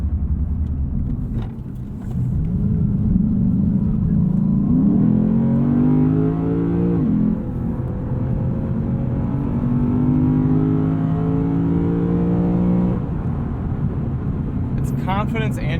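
A 2020 Lexus RC F engine revving through rising pitch sweeps as the transmission shifts on a highway, with the pitch dropping and climbing again, heard from inside the car with someone talking over it much of the time.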